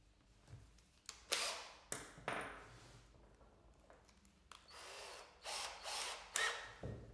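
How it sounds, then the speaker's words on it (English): A power drill whirs in several short bursts, drilling a pilot hole through a stop into a wooden board, each burst rising and cutting off, with brief pauses and light clatter between runs, close by. "drill right through the stop and into the board with a pilot drill"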